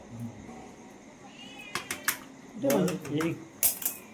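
A cat meows a couple of times nearby amid clicking and tapping noises, with faint voices in the background.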